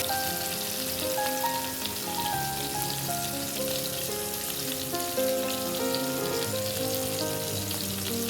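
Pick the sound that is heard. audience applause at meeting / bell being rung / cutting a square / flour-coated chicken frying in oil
flour-coated chicken frying in oil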